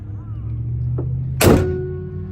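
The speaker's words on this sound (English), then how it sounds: "shutting the hood right now will result in the alarm going off" A car hood slammed shut on a 1991 Chrysler New Yorker, one short heavy thunk at close range over steady background traffic hum.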